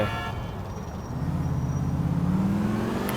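A taxi car in Grand Theft Auto IV drives along, its engine note rising steadily as it accelerates from a low rumble to a louder, higher whine, with no talking over it.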